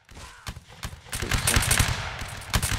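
Musket volley fire in a Napoleonic Wars video game line battle: scattered sharp shots build into a dense crackling volley, then a final loud report, with faint voices in the background.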